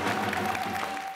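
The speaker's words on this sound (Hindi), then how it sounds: "जोरदार ताली।" Loud, sustained applause from a crowd at an honour ceremony, a continuous wash of many hands clapping that fills the short moment without pause.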